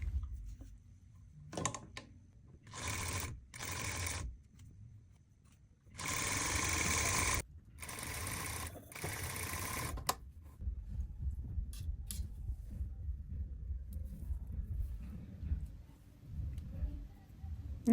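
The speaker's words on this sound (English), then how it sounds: "I need to stitch the pocket facing and pocket welt inside to the pocket bag." A domestic sewing machine stitches a trouser pocket facing and welt to the pocket bag, with several short bursts of motor whir and needle chatter, then a longer steady run, close and loud against a quiet room.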